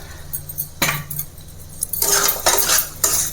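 A spoon stirs chickpeas and boiled potatoes through chana masala in a pot, making close, loud metallic scrapes and clinks in bursts with quieter gaps between.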